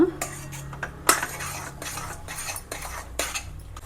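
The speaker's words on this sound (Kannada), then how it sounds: "ಇವಾಗ ನಾವು ಮಿಕ್ಸ್ ಮಾಡ್ತಾ ಮಿಕ್ಸ್ ಮಾಡ್ತಾ ಎಣ್ಣೆ ಬಿಡ್ತಾ ಇದೆ" Motichur laddu mixture being stirred and fried in oil in a pan, with a spoon clinking and scraping the metal in quick irregular strokes, close up over a faint background.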